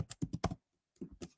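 Keystrokes on a computer keyboard while Python code is entered, a quick cluster of clicks, a brief pause, then another burst of close, crisp taps.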